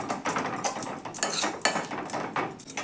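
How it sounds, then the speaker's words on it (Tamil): Spinach and moong dal are stirred in a cooking pan with a spoon that scrapes and clinks against the metal in quick, busy strokes, close and fairly loud, with no talk. "நல்லா கிளறி விடுவோம்."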